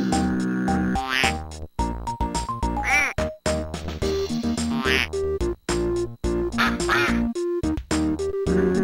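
Cartoon ducks in the Fisher Price Splatster plug-and-play video game quack over and over, loud and electronic, mixed with bright game music chimes and tones in a busy, continuous run.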